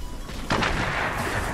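A burst of booming gunfire in Fortnite erupts after a brief quiet stretch, loud and continuous with a crackling, heavy texture.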